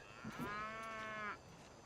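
A single cow moo in the train strategy game Railway Empire, one drawn-out low call of about a second, clear and fairly quiet, with no talk.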